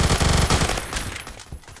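Vector submachine gun firing in Phantom Forces, a fast rattling automatic burst that is loudest at first and then thins into scattered shots, close and without talk.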